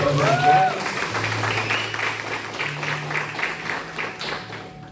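A church congregation at a Sunday service applauds in a steady, sustained wash of clapping that fills the room, with a voice speaking briefly at the start.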